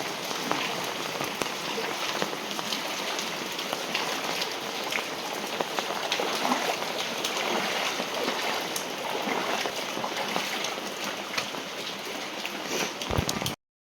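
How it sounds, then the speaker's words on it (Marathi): Heavy rain pours steadily in Nashik, where streets are waterlogged, making a dense, continuous hiss and patter of drops on surfaces that stays loud and even throughout, with no voices. "बघा इथं किती भरमसाठ पाऊस आहे."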